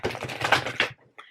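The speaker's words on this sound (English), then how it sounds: "Let's do a quick shuffle." Tarot cards shuffled quickly by hand, a short burst of dense riffling and flicking, close and soft, ending with a faint tap.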